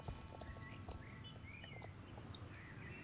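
Hooves of a horse in the Star Stable riding game clip-clop in a steady rhythm at moderate level, with faint chirping birdsong above them and no speech.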